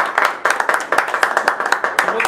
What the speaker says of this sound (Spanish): Damos un aplauso también a